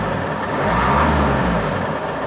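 A car engine revs up as the driver accelerates, a steady mid-pitched drone that swells and holds at close range with no talk over it.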